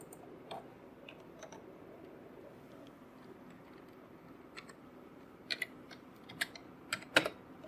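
Keys tapped on a computer keyboard while entering a value into a MySQL database table, a few isolated clicks early on and then a quick cluster of sharper keystrokes near the end over a faint background hiss.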